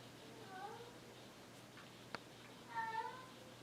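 A house cat lets out a few drawn-out meows and a howl, faint and somewhat distant, with a sharp knock in between and a quiet room hum underneath.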